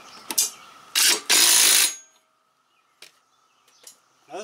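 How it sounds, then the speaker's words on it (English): An electric impact wrench snugs the blade bolt on a lawn mower in short loud bursts of whirring hammering, close by, followed by quieter clicks and handling noises. "I will be using the electric impact just to snug it up"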